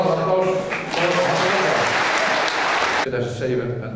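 Audience applause at a municipal New Year reception, dense clapping that swells in the middle and then stops abruptly, with voices talking before and after.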